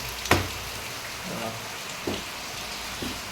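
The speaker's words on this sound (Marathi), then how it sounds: "बाहेर पाऊस बघा आमच्या किचनमधनं कसा पाऊस दिसेल मला" Steady rain hisses outside in a continuous wash of noise, broken by a few soft thuds.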